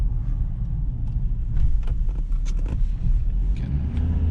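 Ford Ranger pickup truck driving with stability control switched off, a deep, loud engine rumble with irregular low-end surges and light road noise, no talking.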